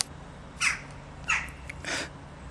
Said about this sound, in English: There was a crow. I scared it.